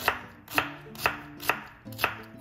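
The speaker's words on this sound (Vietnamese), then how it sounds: "bây giờ mình sẽ trước tiên mình sẽ xắt cái hành tây nè, miếng như thế này." Knife chopping an onion into pieces on a cutting board: five sharp, evenly spaced chops about half a second apart, close and clear with no talking over them.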